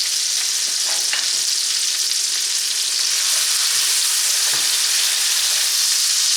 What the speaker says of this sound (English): We're going to saute the vegetables just until they're cooked through.